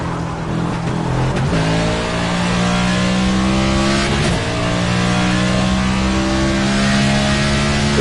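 A NASCAR race car engine in the NASCAR 25 video game drones loudly and continuously, its pitch rising and dipping as the throttle changes, with no talk over it.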